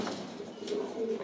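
Pigeons coo softly in a loft where a pair of fancy birds is offered for sale, a low murmuring call repeating at close range with no talk over it.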